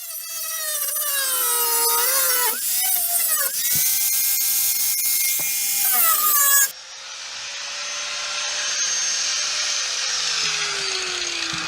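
An unguarded 125 mm cutting disc on a 115 mm angle grinder cuts metal on a pickup's rear wheel arch. Its loud, close, high whine rises and falls under load, then settles into a steadier, lower drone.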